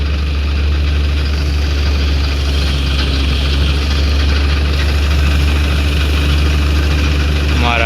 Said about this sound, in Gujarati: આ બાજુ હાઈલો આવે છે આપણું મિની ટ્રેક્ટર ભર લઈને.